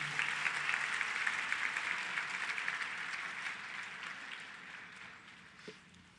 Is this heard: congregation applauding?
yes